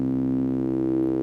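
A synthesizer wavetable tone resembling a filtered square or saw wave holds one steady, sustained pitch, rich and buzzy, heard alone for just over a second.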